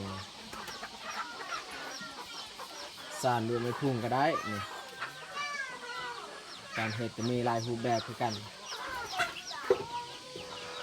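Chickens cluck repeatedly in bursts nearby, with a rooster-like call among them, while a person talks quietly in the background.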